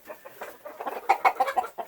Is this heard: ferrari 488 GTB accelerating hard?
no